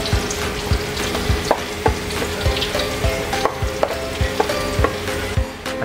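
Garlic sautés in a pan for bopis, a steady close sizzle broken by regular scraping and tapping of a utensil stirring the pan.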